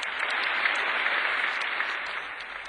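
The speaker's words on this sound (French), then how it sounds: "Les chats applaudissent" Cartoon cats applauding in a Tom & Jerry cartoon, a dense, steady wash of clapping that holds loud and even throughout with no pauses.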